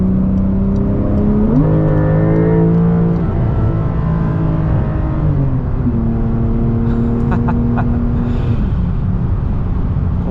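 A 2021 Porsche 911 Turbo S with an eight-speed dual-clutch gearbox accelerates hard up an on-ramp, its engine note climbing and dropping through quick upshifts, loud and close from inside the cabin.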